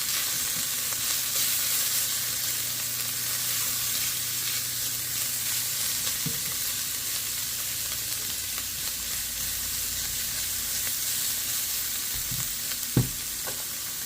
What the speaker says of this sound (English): We're going to go ahead and stir all of that in.